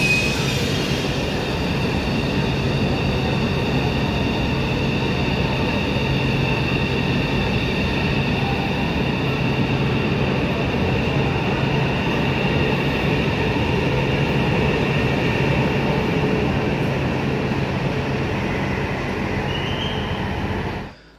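Eight-car KTHF-400AF high-speed train, an export variant of the CR400AF, on the Jakarta–Bandung Whoosh line: a steady, loud rolling rumble with sustained high-pitched wheel and rail tones running unbroken throughout, with no voices.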